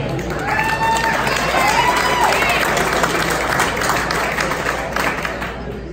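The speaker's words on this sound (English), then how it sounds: "Y'all clap it up for Ronnie." An audience at a live podcast event claps and cheers loudly for several seconds, with a few shouts rising over the applause before it gradually tapers off.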